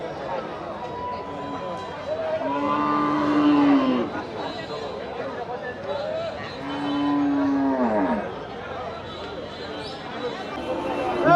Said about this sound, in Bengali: এই পাশে অনেক সুন্দর একটা গরু দেখতে পাচ্ছি